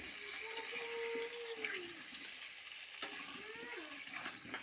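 Potato pieces seasoned with salt and turmeric frying in white oil in a pan, a soft continuous sizzle with some stirring and scraping nearby, faint throughout.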